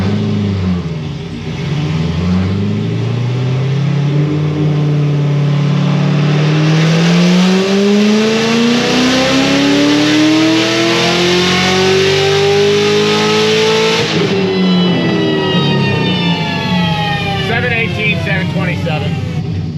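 A supercharged car engine revs hard on a dyno during a power pull with a stock fuel system, its loud whining pitch climbing steadily for several seconds before the throttle snaps shut and the engine drops back to a burbling idle.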